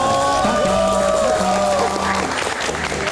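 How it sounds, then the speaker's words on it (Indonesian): Applause from a live audience for the comedy trio Dono, Kasino and Indro at an evening meet event, steady clapping mixed with a sustained musical tone and some crowd noise, fairly loud throughout. "Kita berikan tepuk tangan untuk Dono Kasino Indro"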